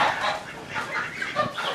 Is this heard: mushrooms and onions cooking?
no